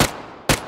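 Two sharp gunshots in PUBG, each a loud isolated crack about half a second apart, with a short fading tail and no talking.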